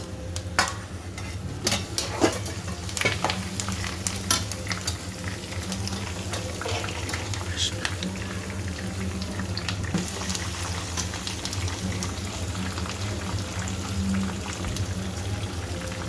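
Chillies frying in hot oil for an avalakki tempering give a steady close sizzle and bubbling, with a few sharp clicks and pops early on.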